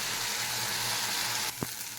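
Spice masala with a splash of water being fried and stirred for egg curry, a dense steady sizzle that drops in level midway, followed by a single soft knock of the spoon.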